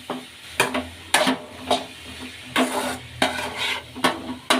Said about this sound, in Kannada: ಈಗ ಬೇಯಿಸ್ಕೊಂಡಿರೋಂಥ ಕಾಬೂಲ್ ಕಡಲೆ ಸೇರಿಸ್ಕೊಳ್ಳೋಣ. ಈಗ ಮಿಕ್ಸ್ ಮಾಡ್ಕೊಳ್ಳೋಣ.